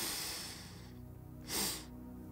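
A person breathes in deeply through the nose during a breathing exercise, heard as one close, airy inhale that swells and fades after a stretch of soft breathy noise, with no talking.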